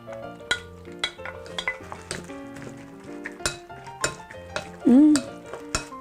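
Three eggs and strawberries mixed in a bowl, a close run of irregular clinks and scrapes from a utensil, with background music and a short vocal squeak near the end.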